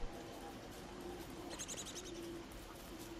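Soft, steady cooing of a dove-like bird in the survival game Don't Starve, a low repeated hum over a quiet ambient background, with brief chirpy notes partway through.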